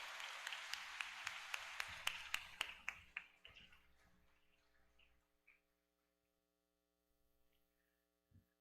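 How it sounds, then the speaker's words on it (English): Audience applause for the graduates at a Southampton High School graduation ceremony: sharp, distinct claps at first, thinning and fading over a few seconds into quiet, with a low electrical hum underneath and a lone tap near the end. "Let's give all the graduates a round of applause."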